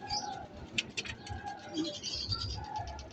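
Pigeons being fed coo softly and repeatedly at close range, low murmuring calls mixed with scattered chirps and light pecking taps.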